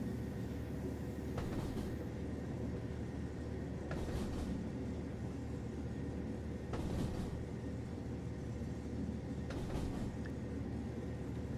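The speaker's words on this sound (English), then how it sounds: "the only problem with having such beautiful train track clack sounds or track clacking sounds in this particular DLC" Steady rumbling train interior from Train Sim World 3 on the Nidertalbahn line, with periodic faint clacks of wheels over rail joints every few seconds under a constant low drone, no talking.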